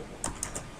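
A few quick keystrokes on a computer keyboard, three light clicks in under a second, close and quiet against a faint background hum.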